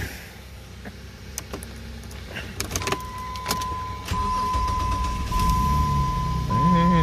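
A small Jeep is cold-started, with scattered clicks and a steady chime before the engine catches and settles into a louder, low running drone toward the end.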